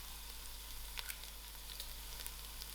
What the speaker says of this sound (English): To my pot, I'm also going to break in my dry chilies